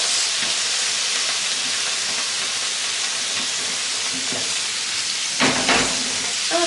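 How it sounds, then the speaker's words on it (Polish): Fish fries in a pan until golden, a constant loud sizzle and hiss throughout, with a brief knock of a utensil near the end and no voices. "A tutaj smażymy rybę na złoty kolor."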